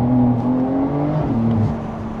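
A Porsche 911 Carrera 4S (992) with a flat-six engine accelerating, a loud, close, steady engine drone with rising harmonics that eases slightly toward the end, heard alone without talk.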